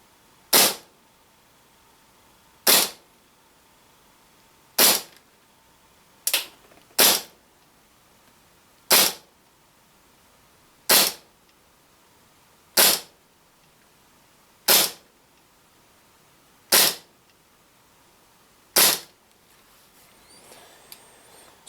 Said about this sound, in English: So a few warm shots there, followed by some decent shots, followed by some warm shots again.